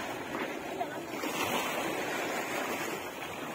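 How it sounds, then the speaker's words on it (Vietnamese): Sea waves wash against a beach dike under construction, a steady broad rushing surf mixed with wind buffeting the microphone, with people swimming nearby. "tới chiều lên thì sóng nó cao vậy cho chú anh chị"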